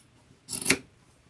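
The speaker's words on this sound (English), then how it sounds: "I'm going to cut right across there." Scissors snip across the hem of skinny denim jeans in one quick, close cut lasting a fraction of a second, with quiet surroundings before and after.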